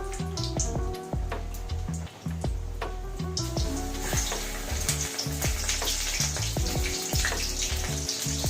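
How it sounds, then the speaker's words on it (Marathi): Chili bhaji fry slowly in oil over a low flame, a dense, steady bubbling sizzle that stays fairly loud and even from start to finish, with no voices. "तशी बारीक मिरची मध्ये आपण तळून घ्यायची आहे."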